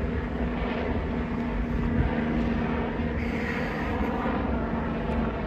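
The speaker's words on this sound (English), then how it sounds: "There is Life Flight up there, headed for the hospital." A Life Flight medical helicopter passes overhead on its way to a hospital helipad, heard as a continuous broadband engine roar with a faint steady hum, even and unbroken throughout, fairly distant over an outdoor street setting.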